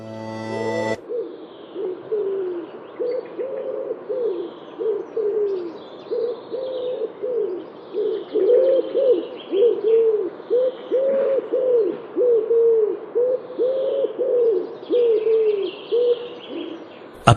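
A courting pigeon coos in repeated rolling phrases, loud and close, while fainter chirps from other birds sound in the background farmyard. A brief sharp noise opens the sequence.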